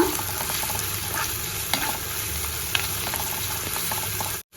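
Sliced onion and two green chillies frying in a pan for coconut milk pulao, a constant close sizzle with occasional light stirring clicks and scrapes, no voices.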